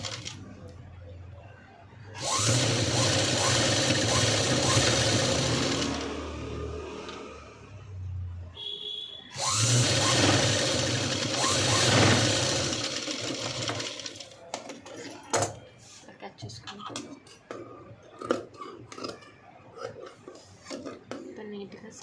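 A sewing machine stitches cut fabric pieces in two loud, sustained runs, followed by a stretch of scattered clicks and handling noises.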